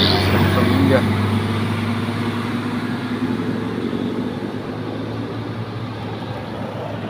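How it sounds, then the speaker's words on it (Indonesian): A long intercity bus passes on a road in a steady, close, loud drone of engine and tyre rumble, with a voice talking over it. "Lagi bis panjang langsung pindah ini antar kota"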